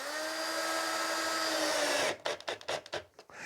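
A power drill drives a 20mm screw into the top hole of a cabinet door: a steady high whine for about two seconds, then several short stuttering bursts as the screw seats, close and loud.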